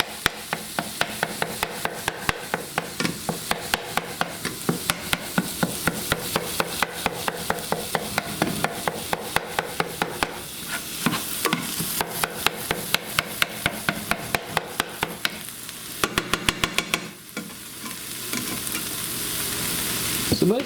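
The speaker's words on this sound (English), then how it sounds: "I just chop it up almost the entire time it's cooking, so I can guarantee small pieces of meat." Meat sizzles in a frying pan while a utensil chops it in rapid, steady strikes, loud and close, with the chopping pausing briefly near the end as the frying continues.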